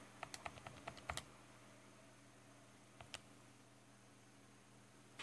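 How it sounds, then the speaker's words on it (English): Plastic keys on a TI-84 Plus graphing calculator tapped in a quick burst of about eight close, crisp clicks, then two isolated presses after a pause, all over a quiet hum. "Type in some random stuff."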